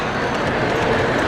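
A Challenger model locomotive runs past on its track at the 2019 New England Model Train Expo, giving a brief, continuous rolling rumble and rattle that is fairly loud and close.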